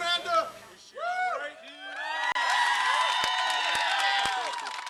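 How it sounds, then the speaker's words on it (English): An outdoor crowd gathered outside a hospital with its staff cheers, whoops and claps in celebration, voices rising into a loud, sustained roar with scattered sharp claps, shouting heard close and continuous throughout. "Outside, crowds joined with the hospital staff to celebrate."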